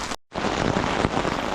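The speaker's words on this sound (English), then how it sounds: "Rain watch, it has got pretty extreme now." Heavy rain pours down in a dense, loud, continuous hiss during a camping trip, briefly cutting out at the start before resuming at full strength.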